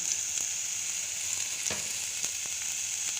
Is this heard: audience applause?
no